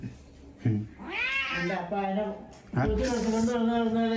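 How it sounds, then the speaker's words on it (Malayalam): A cat meows several times, long drawn-out cries close by, with one short squeak between them. "നമ്മുടെ ലുക്കക്കുട്ടി, ഇത് അലീന കുട്ടിയുടെ പൂച്ചയാണ്."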